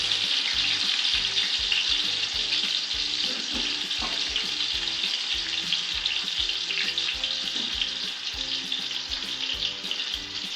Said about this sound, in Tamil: எண்ணெய் காஞ்சதும் வெங்காயம் போட்டுக்கலாங்க.